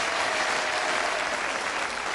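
A studio audience at a televised darts game show applauding a charity darts player, a dense, steady wash of clapping heard close and loud throughout.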